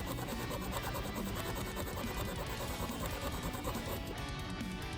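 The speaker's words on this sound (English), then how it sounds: "We're going to take a little bit of 4/0 steel wool and we're going to start polishing on this" Fine 4/0 steel wool rubs continuously over the metal body of a Hot Wheels Chevy Silverado die-cast truck, a close, dense, steady raspy scrubbing with no pauses and no voice.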